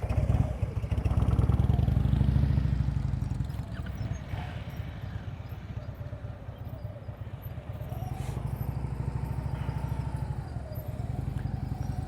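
A motorcycle putters along at slow speed during a riding practice session, its engine a steady low chugging throb that is louder at first, then eases and holds through the rest.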